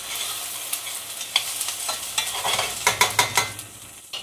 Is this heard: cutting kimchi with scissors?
no